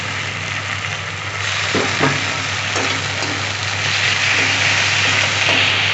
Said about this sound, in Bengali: মশলাটা একটু ভাজা ভাজা করে নেব